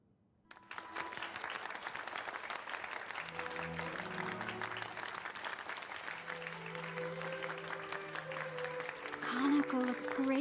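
Sustained audience applause fills a stage scene in the video game The Centennial Case, a steady wash of clapping that runs for several seconds and swells near the end, with music tones underneath.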